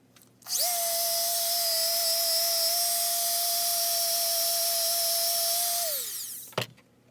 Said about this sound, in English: Buffing wheel on the Dremel, and just, polish up the inside